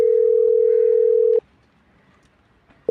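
A telephone dial tone hums as a steady, loud, pure tone for about a second and a half, then cuts off abruptly into near silence, with a short click of the tone returning at the end.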